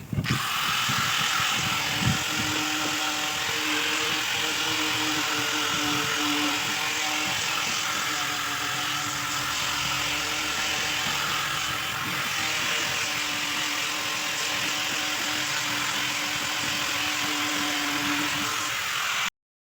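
Power sander working on a fiberglass repair to a cracked car bumper, a steady high-pitched whirring drone that runs continuously and fairly loudly at close range, with no speech.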